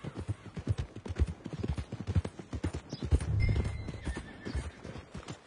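A horse in Red Dead Redemption 2 clip-clops along at a brisk, close, rhythmic pace, with a whinny rising partway through and no talk over the hoofbeats.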